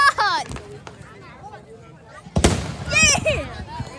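Fireworks burst outdoors with a couple of sharp bangs, one loud crack near the middle, while excited children's voices squeal and shout over them.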